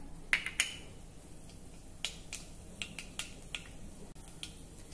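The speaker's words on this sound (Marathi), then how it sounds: "आता कढईमध्ये थोडी मोहरी घालूया," Mustard seeds splutter in hot oil in a kadai, giving scattered sharp pops and crackles over a faint steady hiss, loudest in the first second and then spread out irregularly.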